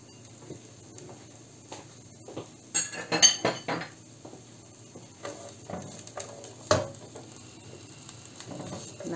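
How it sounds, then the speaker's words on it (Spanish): Onion sautéing in a teaspoon of oil in a frying pan, a faint sizzle broken by metal utensil clinks and pan knocks, including a cluster of scraping stirs, close and with no voices. "ahí vamos a sofreír la cebollita"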